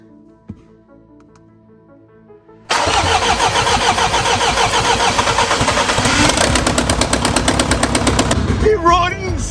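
A Jaguar XF that had been broken cranks and fires into life after a quiet moment, then settles into a loud, rough, clattering idle that carries on steadily.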